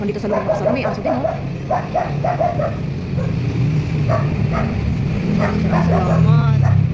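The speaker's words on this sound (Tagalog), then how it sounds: "Mukhang dito sa loob ng kasama may aso din, oh." A dog barking indoors, a string of short yips and barks with some whimpering, heard under people talking and a low background rumble.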